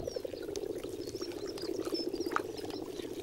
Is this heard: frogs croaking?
yes